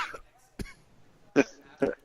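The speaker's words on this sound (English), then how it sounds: "because you're coughing and choking on things." Several short, harsh coughs close to the mic, spaced irregularly with brief pauses between them.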